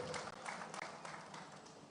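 Audience applause at a live millennial farmers' gathering in South Sumatra: dense, steady clapping from a crowd that holds at an even level for the whole two seconds.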